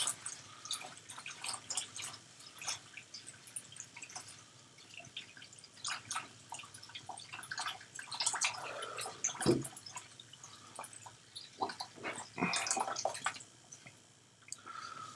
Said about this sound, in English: we're filling up the thing slowly with water while I talk about just random things